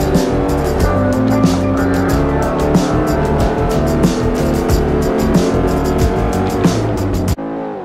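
A Mercedes-Benz SLR McLaren with around 600 horsepower racing in Forza Motorsport 4, its engine droning loud and close as the revs rise and fall through shifts, then cutting off abruptly near the end.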